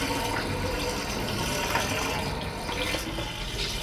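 Fresh water runs steadily into a narrowboat's tank on the Erie Canal, a continuous hissing gush at moderate distance with no talking.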